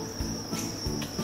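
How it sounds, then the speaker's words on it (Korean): Feeder crickets chirp for leopard geckos, a steady high-pitched trill heard alone, close and fairly quiet. "자, 귀뚜라미를 한번 줘볼게요."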